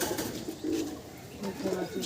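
Racing pigeons coo softly in a loft, a few low throaty coos rising and falling over quiet background noise.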